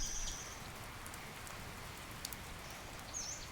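Rain patters softly on long grass in a faint, steady hiss with scattered drop taps, and a few brief bird chirps come through from a distance.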